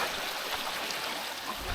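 A river flows steadily on a wintry bush track, a constant close rushing wash with no pauses.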